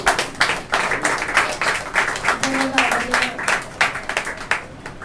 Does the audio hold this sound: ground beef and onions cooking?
no